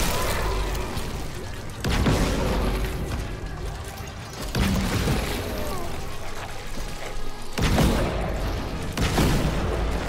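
Gunfire from a weapon in the sci-fi horror video game Dead Space, several loud booming shots spaced a few seconds apart over dense game noise and a low rumble.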